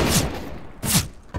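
Two short bursts of gunfire in Counter-Strike: Global Offensive, a sharp blast near the start and another about 0.8 s later, each fading into a brief tail, with a faint third hit at the end.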